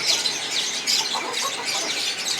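Chicks in a cage peep and chirp in a busy overlapping chorus of high, thin calls, close and steady with no talking.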